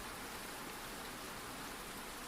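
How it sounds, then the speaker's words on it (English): Steady rain falls in an even, unbroken hiss that stays constant and fairly soft throughout, with no other sounds and no voices. "the rain, always the rain, steady, soothing"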